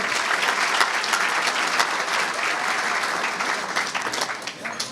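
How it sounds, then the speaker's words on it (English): Steady, dense audience applause fills a community iftar gathering, honoring donors; the clapping stays full and even from start to finish, easing slightly near the end. "So can we please get a round of applause for everyone who donated here tonight?"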